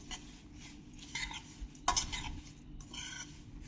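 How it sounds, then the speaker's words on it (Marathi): Chili powder and powdered sugar are stirred together in a bowl for dadpe pohe, with soft scraping strokes and a few louder spoon knocks in close, quiet surroundings. "आता हे तिखट आणि पिठी साखर मिक्स करून घेऊया"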